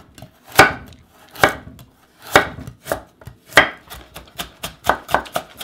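A knife chops pickled radish (danmuji) and carrot on a cutting board for lobster gimbap, giving loud, close, sharp thuds, first spaced and then speeding into a quicker run of cuts, with no talking.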